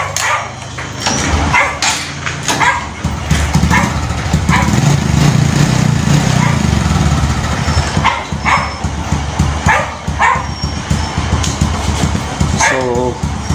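A motorcycle engine, just fitted with a fixed air filter, idles as a steady low drone while a dog barks repeatedly nearby and people talk.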